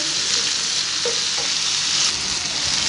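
Egg and grated potato qeema frying in a pan, a steady close sizzle with a faint stir or two, no talking.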